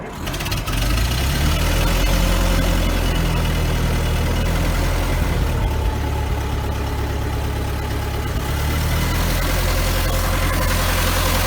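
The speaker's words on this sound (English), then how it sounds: "the sound is from a Ford Model T" A Ford Model T engine running close by, a loud steady low rumble with a rhythmic idle throb and mechanical vibration, holding evenly throughout with no talking.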